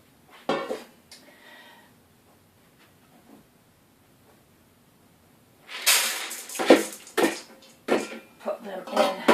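Dry green split peas tipped into a saucepan, a burst of rattling, clattering pellets against metal that comes in uneven pulses after a quieter opening with a few soft knocks.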